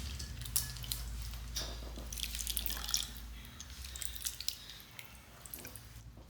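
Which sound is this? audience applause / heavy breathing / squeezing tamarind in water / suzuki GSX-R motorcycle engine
squeezing tamarind in water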